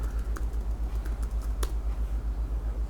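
Keys tapped on a computer keyboard while a number is entered in a spreadsheet, a quick run of close clicks over a low steady hum.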